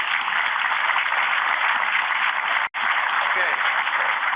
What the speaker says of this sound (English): Let's give Avery a good applause.